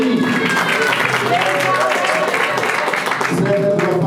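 Wedding guests applaud at a civil marriage ceremony, a steady wash of clapping that holds for several seconds, with voices talking over and through it.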